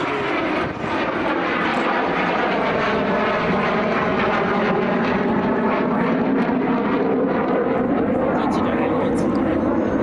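Military jet aircraft roaring past at an air show at Istres air base, a loud sustained engine rumble and whine that sweeps through the whole stretch, with a commentator speaking over it.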